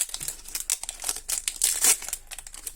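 A Magic: The Gathering booster pack wrapper from Murders at Karlov Manor being torn open and crinkled, with rapid irregular crackles and rustles close to the listener.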